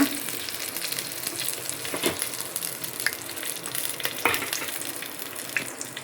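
Curry leaves and spices fry in a hot pan with a steady, close sizzle, broken by a few sharper crackles and faint stirring scrapes. No one speaks.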